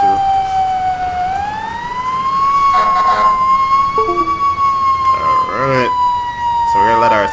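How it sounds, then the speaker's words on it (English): Fire truck siren from a ladder company in the EmergeNYC firefighting game, driving in rain: a loud, close, sustained mechanical wail that rises, then slowly winds down, with a voice talking over it. "Siren just will wind down by itself."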